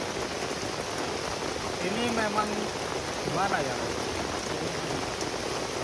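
Heavy rain pours onto a tent pitched at a mountain campsite, a dense and continuous hiss that holds steady throughout while a person speaks briefly over it.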